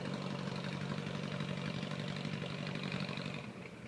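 The engine of a 1926 Ford Model TT one-ton tow truck idles alone with a quiet, steady, evenly ticking chug that holds for the whole stretch and eases slightly at the end.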